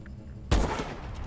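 A single loud gunshot in a first-person shooter game, an abrupt close blast with a short booming tail.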